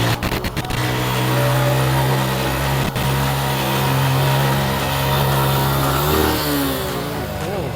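A motorcycle ridden by someone standing upright on it travels along village roads, its engine giving a loud, steady drone close by that dips and then rises in revs toward the end.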